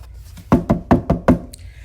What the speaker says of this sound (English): walked briskly up to their front door and knocked.